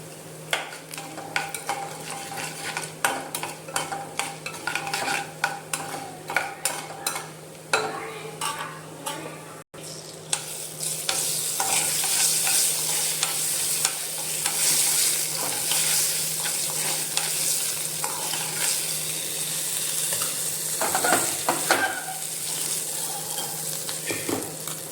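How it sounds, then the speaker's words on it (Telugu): A spoonful of coriander seeds fries in a pan for a gongura pickle, giving a continuous close sizzle that swells louder midway, with frequent scraping and clinking of a spoon stirring against the metal. "ఇవి బాగా వేగిన తర్వాత అప్పుడు 1 స్పూన్ ధనియాలు వేయాలి."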